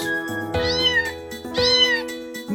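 Cartoon-style cat meows in a Turkish children's farm song, two long sliding meows sung over steady musical accompaniment, clear and upfront.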